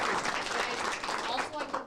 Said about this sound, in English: give them a little bit of a round of applause